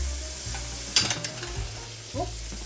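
Fried rice sizzles in a hot pan while being tossed and stirred, a close steady hiss punctuated by a few quick scraping clatters of the spatula and pan.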